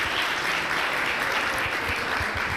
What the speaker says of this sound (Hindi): जोरदार तालियां होनी चाहिए यार इस टीम के लिए यार